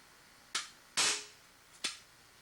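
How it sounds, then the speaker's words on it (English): A staple gun driving staples while building juggling devil sticks, three separate sharp, close snaps, each with a short ringing tail, in otherwise quiet surroundings. "And now we're going to use the staple gun again."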